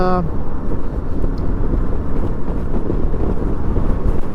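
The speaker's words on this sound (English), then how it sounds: "I wish it wasn't so windy" Loud, steady wind buffeting a helmet-camera microphone while riding a Harley-Davidson Sportster motorcycle, a dense low rumble throughout with a brief tonal engine whine at the start.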